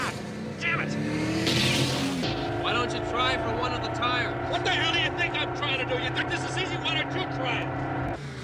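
A film car chase with engines roaring and revving and tires squealing, loud and continuous throughout, layered with a film score and sound effects.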